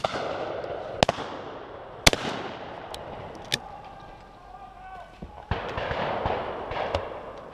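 Shotgun shots ring out at a driven pheasant shoot, four or so sharp reports spaced a second or two apart with lingering echoes, while people talk and call out between them in the open air.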